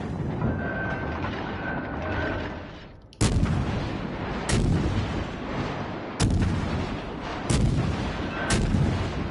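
Heavy naval gunfire from warships in World of Warships Legends, several loud booming salvos at irregular intervals over a constant rumbling battle background.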